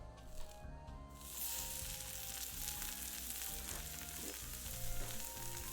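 Meat sizzling as it chars on molten tin, a steady broadband frying hiss that comes in after a brief quieter start and holds at a moderate level, with no talk.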